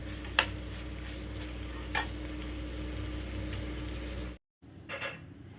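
Low steady sizzling of beans frying in a pan, punctuated by a few sharp scrapes of a spatula against the pan, ending after a short pause.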